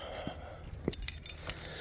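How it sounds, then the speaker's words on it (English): A set of car keys jangles in a few quick, close metallic bursts near an LS-swapped Cuda, with quiet surroundings between the clinks. "Give me my keys."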